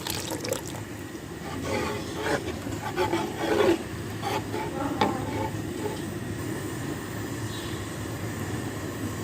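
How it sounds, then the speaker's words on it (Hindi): Household milk, three litres, pours into a pot of rice for Punjabi dhaba-style rice kheer, a steady rushing liquid wash with a few soft splashes running close and continuously throughout. "अब आप जो घर के इस्तेमाल का दूध है वो इसमें शामिल कर देंगे।"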